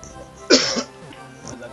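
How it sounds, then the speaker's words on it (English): A single sharp, fairly loud cough bursts out near the microphone with a short rough tail, followed by a fainter throat sound a moment later. "I coughed myself into an early death"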